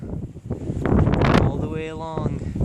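Gusty wind on the Pacific Crest Trail in Northern California buffets the microphone in heavy rumbling bursts, with a voice speaking underneath.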